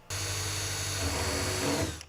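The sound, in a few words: drilling rivet holes with a number 40 drill bit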